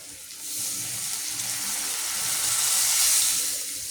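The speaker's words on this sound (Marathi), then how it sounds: "हे बघा इथे मी पाणी घालते याच्यातच" Water pours steadily into a pot for rava upma, a continuous bright hiss that swells slightly toward the end, alone with no voices.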